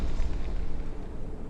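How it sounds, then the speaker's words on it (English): A brief, muffled explosion from the generator in Frostpunk's Last Autumn setting, a low dull boom that rumbles and fades over a second and a half. "Sound of explosion comes from the generator."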